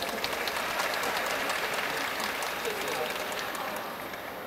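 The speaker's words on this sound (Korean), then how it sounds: "여러분 박수 한번 부탁드립니다." Audience applause fills an open talk stage event for the film Extreme Job at the Busan International Film Festival, a dense, steady wash of clapping from a large outdoor crowd that fades slightly toward the end.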